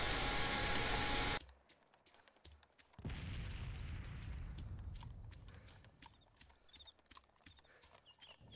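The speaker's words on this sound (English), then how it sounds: "A lot of explosions going on up here." Explosions in Arma 2: a loud blast cuts off abruptly, then a second heavy boom rolls in and fades slowly, followed by scattered faint clicks and distant thumps.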